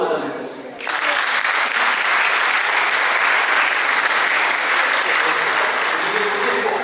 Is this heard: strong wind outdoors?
no